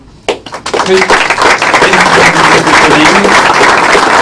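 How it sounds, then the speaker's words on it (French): Applause breaks out from an audience at an award presentation and swells into steady, loud clapping that continues throughout, with a voice over it at first. "Je vous demande d'applaudir, s'il vous plaît, Olivier Esto,"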